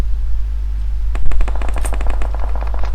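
Rapid automatic M762 assault rifle fire in PUBG Mobile, a dense burst of shots after a brief pause, loud over a constant low hum.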